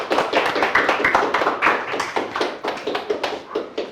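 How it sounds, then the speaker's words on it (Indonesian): Classroom audience applauding after a group's presentation, a dense run of many hands clapping steadily at close range for several seconds with no talk over it. "Beri aplaus dulu ya"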